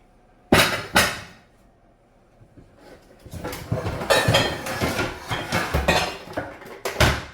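A metal pan clanks twice in quick succession while a sweet potato cake is being made, then softer rattling and scraping of kitchenware builds up, ending with another sharp clank close by.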